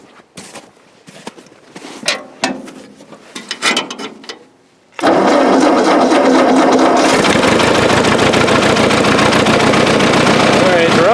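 A Ford 8N tractor cranks with uneven sputtering bursts, then catches and settles into a loud, steady running engine close by.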